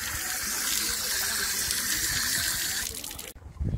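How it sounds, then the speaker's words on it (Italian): Water gushes loudly and steadily from a public fountain in Pompeii on a hot day. It stops abruptly near the end, leaving a brief quieter moment. "qui ci sono le fontane, noi ne approfittiamo per rinfrescarci"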